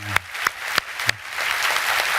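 A church congregation at a Korean Sunday worship service claps in applause, a few sharp claps first and then a steadier burst of clapping that fills the room.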